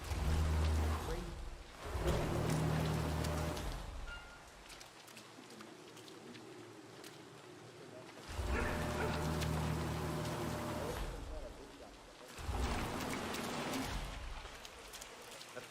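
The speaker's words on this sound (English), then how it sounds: "Rain, rain, nothing but rain." Rain falling in the video game Hitman 3, a steady hiss throughout with louder bursts of game sound, low rumbles and muffled voices rising and fading around it.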